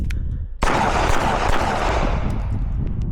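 A sharp, loud pistol shot from an STI Staccato Tactical 4.0 at a practical shooting session cuts in abruptly, followed by a long reverberant decay.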